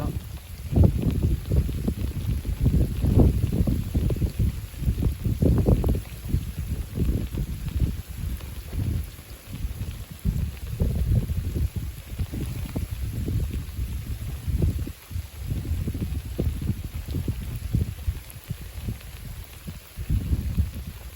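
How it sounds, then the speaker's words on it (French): A strong westerly gale during a December storm roars in continuous heavy buffeting, with deep, uneven gusts surging and easing close to the microphone throughout. "le vent commence à tourner de plus en plus à l'ouest."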